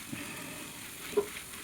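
Green peas being crushed and scraped with a metal pot against a hot tawa, a soft continuous sizzle with a faint scrape and one brief sharp clink, close and quiet.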